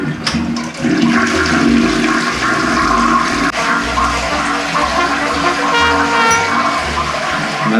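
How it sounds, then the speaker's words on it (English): An Indian toilet with a fault flushes loudly and close, a strong rushing gurgle of water that runs steadily for several seconds with sloshing surges. "Let's see if it still flushes."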